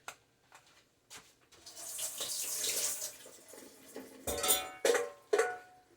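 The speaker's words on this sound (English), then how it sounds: "I'm gonna just pour this into the sink." Water runs and splashes into a sink in bursts, with clinks of dishes near the end; no one speaks.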